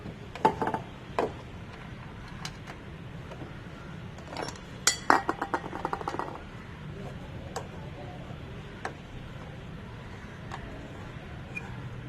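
Small metal bolts clink and tick against metal parts while being fitted by hand during rear brake work on a Bajaj Dominar 400 motorcycle, in sparse bursts near the start and middle. Quiet background throughout.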